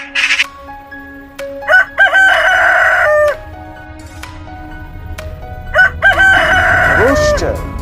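A rooster crows twice, loud and close, each a long cock-a-doodle-doo with a falling tail, separated by a quieter stretch with faint clucking in the background.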